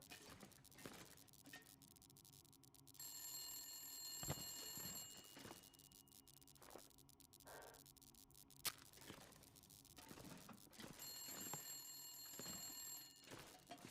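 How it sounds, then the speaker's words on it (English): A telephone rings in a survival video game with two bursts of bright, bell-like trilling separated by a pause, faint and distant amid clicks, footsteps and ambient game noise. "Was that a phone?"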